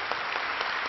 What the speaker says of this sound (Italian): È stato proprio bello questo applauso così immediato e spontaneo.